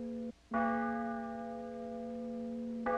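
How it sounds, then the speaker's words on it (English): A deep church bell tolls a funeral dirge with a long ringing sustain, pauses briefly, then strikes again and hums on; a fresh stroke sounds at the very end. "Bells sound a funeral dirge"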